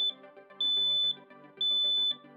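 Smoke detector alarm sounding in repeated loud high-pitched beeps, two long tones about half a second each, heard clearly over a steady background.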